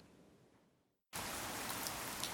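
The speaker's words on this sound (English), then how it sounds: "The primary word for rain is ame." Steady rain falling, a faint hiss that drops briefly to near silence before returning as a louder, dense and even downpour.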